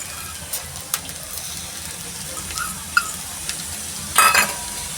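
A spice tempering sizzles softly in hot oil for dudhi muthiya, a low steady hiss with a few sharp clicks and a brief louder spatter near the end, close and without speech.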